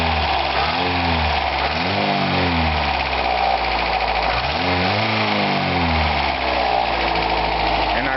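A 1982 Toyota pickup's 22R engine runs close by, a steady mid-pitched drone with two rev blips that rise and fall, then settle back to a ticking idle.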